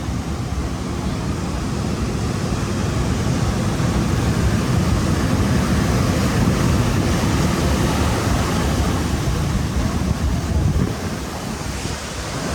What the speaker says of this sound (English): the wind sucks for recording